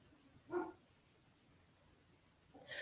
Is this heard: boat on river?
no